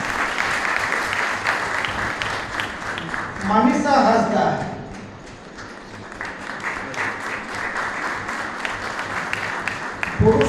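An audience at a student felicitation event for Purush Diwas in Rajgangpur breaks into moderate applause while a voice continues reading names over the clapping, which swells briefly before thinning out.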